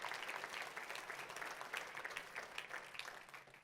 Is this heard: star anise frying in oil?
no